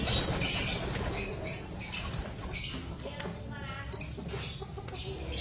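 Racing pigeons in a loft give soft cooing, rustles and occasional wing flaps, a busy low-level flutter close by with faint chirpy squeaks and no clear speech.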